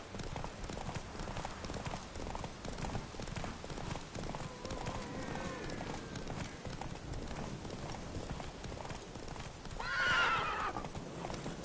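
Horse hooves clip-clop steadily at a gallop during a race in the video game The Witcher 3: Wild Hunt, with a brief whinny near the end, fairly faint under game ambience.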